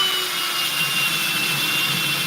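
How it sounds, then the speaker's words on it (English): A power drill bores a hole through a wall that may hide double studs, making a steady, loud, continuous whine and grind that holds evenly throughout with no pauses. "I gotta drill another hole right here."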